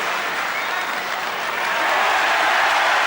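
A snooker audience at the 1984 Masters semi-final applauds and cheers, a dense close wash of clapping that swells louder in the final second.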